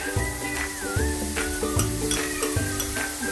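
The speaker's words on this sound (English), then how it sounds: "So as your onions are starting to change color, I want to go in with my garlic." Garlic hits sizzling onions that are just turning golden brown for a creamy coconut tilapia, with steady frying crackle and repeated scraping stirs of a utensil in the pan, close and fairly loud, with a faint musical background.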